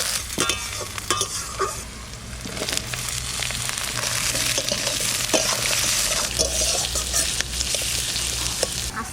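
Garlic, cumin and dried chilli tempering in hot mustard oil, a loud crackling sizzle with repeated scraping and stirring clinks throughout, no speech.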